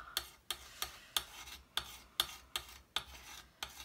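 Brusho powder is mixed with a palette knife in short, rhythmic scraping strokes, about eight of them, each a close, gritty rasp with a quick attack that fades, with no voices.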